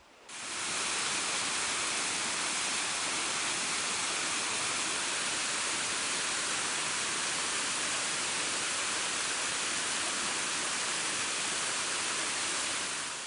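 A waterfall roars in a steady, loud broadband rush that fills the scene, with no talk.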